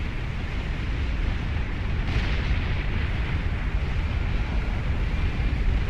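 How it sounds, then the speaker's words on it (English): An anti-nuke missile launches in Beyond All Reason, a loud sustained rocket roar with a brief sharper burst near the start that keeps rushing steadily with no speech. "Very late anti-nuke missile going up for something."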